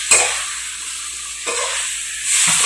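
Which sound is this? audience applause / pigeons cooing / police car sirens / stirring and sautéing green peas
stirring and sautéing green peas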